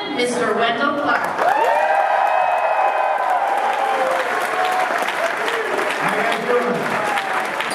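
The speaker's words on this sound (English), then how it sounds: "Please make some noise" A large crowd at a Toronto Maple Leafs fan event applauding and cheering, with dense sustained clapping, whoops and shouts, loud and continuous, plus an amplified voice speaking at the start.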